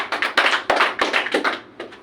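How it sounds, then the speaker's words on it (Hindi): A small group claps for a chef at a food safety session after he correctly states the hot buffet temperature: loud, close bursts of hand claps in uneven clusters with brief gaps. "सर के लिए तालियां बजाओ"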